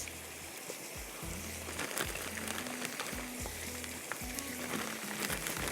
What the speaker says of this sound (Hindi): ये मैं फ्राई करके निकाल रही हूँ